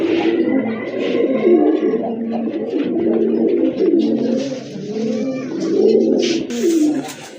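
Active pigeons at a market stall coo continuously in overlapping low, throaty calls close by, with brief flutters and faint chirps mixed in.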